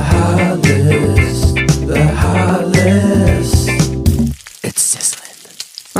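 A musical jingle plays for about four seconds, then gives way to a short burst of hiss and crackle like food frying in a hot pan, a sizzle effect for a talk show's Hot List segment.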